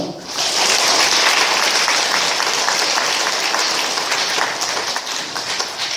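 Sustained applause from a church congregation at Mass, loud and steady from start to finish with dense overlapping claps and no speech on top.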